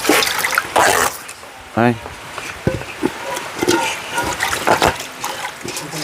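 Running water splashes and trickles while washing during suman cooking on a rainy day, with people talking over it and a brief exclamation.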